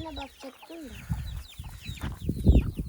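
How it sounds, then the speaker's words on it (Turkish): Chickens and chicks cluck and chirp close by in short bursts, with a few thin peeping calls and some rustling and low thumps. "Bunlar ilk civcivlerimiz arkadaşlar."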